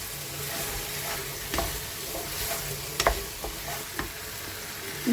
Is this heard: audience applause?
no